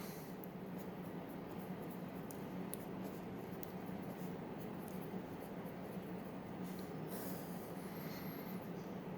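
Pen writing in a notebook during a math lesson, a faint steady scratching under a constant room hum with a few small taps and strokes, no talking.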